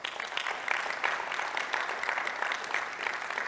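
An audience claps steadily throughout, a dense, even patter of many hands at moderate volume with no talking over it.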